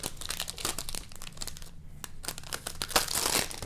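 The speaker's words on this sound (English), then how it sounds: "Let's go ahead and pull off all the plastic." Plastic wrap pulled and torn off an Asus Transformer Prime keyboard dock, giving close, busy bursts of crinkling and crackling with brief pauses, no talking.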